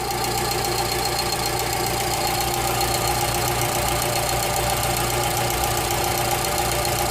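A Ford Fox VHT 1.0 engine idles loudly and steadily, with a persistent rhythmic knocking tapping through the running drone.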